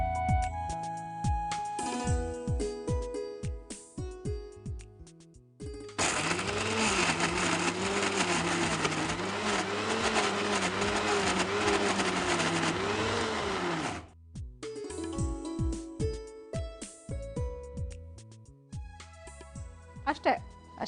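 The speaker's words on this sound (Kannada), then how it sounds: "ಇದಿಷ್ಟು ನುಣ್ಣಗೆ ರುಬ್ಕೋಬೇಕು." A kitchen mixer grinder grinds masala with salt into a fine paste in one loud, steady whirring burst of about eight seconds, with people talking before and after.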